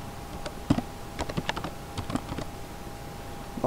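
Someone types a terminal command on a computer keyboard in Ubuntu 14.04, with scattered key clicks in uneven bursts over a quiet background hum.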